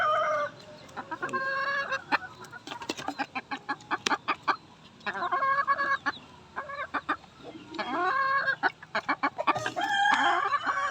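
Backyard chickens and chicks cluck and chirp in repeated bursts, with an occasional crow, close and fairly loud with short pauses between calls.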